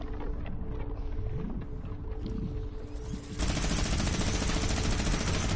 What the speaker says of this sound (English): Dude, look, I'm actually shooting at it.